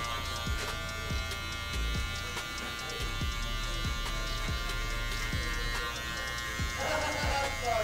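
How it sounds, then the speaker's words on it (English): Electric hair clipper with a wide blade buzzing steadily as it glides across the top of the head during a fade haircut, close and continuous with faint snips of cutting under a low voice. "Just letting the clipper glide off of the top of the head."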